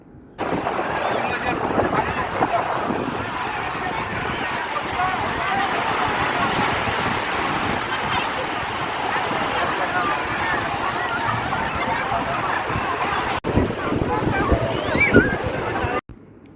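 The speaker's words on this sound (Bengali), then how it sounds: "আপনাদেরকে একটু সমুদ্রের সাউন্ডটা শোনাবো আমি" Sea waves roll onto the shore at Patenga beach, a steady, loud broadband wash of surf and wind with no clear breaks, a brief drop near the end before the rush resumes.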